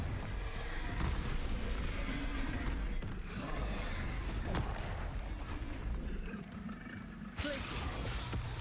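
Explosive combat spells such as Bombarda and Confringo blasting in Hogwarts Legacy, several heavy booms and crackling bursts spread through a dense, continuous battle din.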